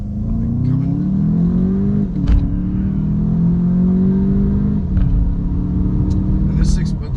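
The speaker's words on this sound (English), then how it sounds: "in here obviously it's really spunky and it's got a lot of character and a boomy voice coming." A 2019 VW Jetta GLI's turbocharged four-cylinder engine with a 7-speed DSG automatic pulls hard from inside the cabin, its booming drone climbing in pitch through gear changes, loud and steady under a voice.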